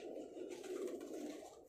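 A pigeon coos softly while held in the hand by a fancier, a low steady murmuring call that runs continuously at close range without talk.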